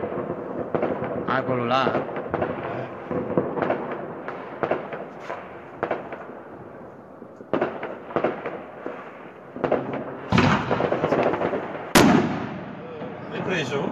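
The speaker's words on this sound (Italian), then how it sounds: "Sì, ho preso fuochi artificiali di quelli ultra." New Year's Eve fireworks going off outdoors, including a large rocket, with repeated sharp bangs and crackling bursts, some close and loud and others more distant, while people talk and call out over the blasts.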